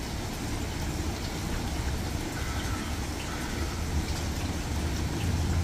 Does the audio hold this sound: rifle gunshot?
no